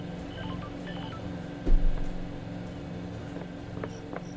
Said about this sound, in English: This is a little Game Boy sound effect. Game Boy Advance sound effect.